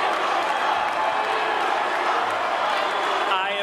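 A crowd of delegates at a political convention reacting, a loud, continuous wash of cheering and shouting voices with scattered clapping and no pauses.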